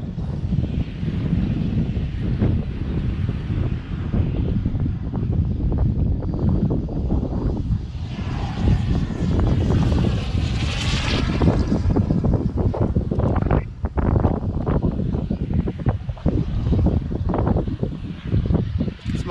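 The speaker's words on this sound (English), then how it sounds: "Jet landing." A turbine jet aircraft landing, a loud sustained engine roar with buffeting wind noise throughout, rising in a whooshing surge midway.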